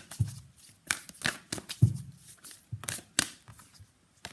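Tarot-style Moon Oracle deck cards being shuffled by hand, a quick series of crisp riffling bursts and soft slaps, close and fairly quiet, with no talking.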